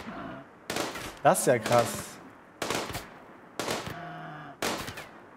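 Gunfire in the video game RimWorld: several loud bursts of shots in quick succession with short gaps between them, heard alongside people talking.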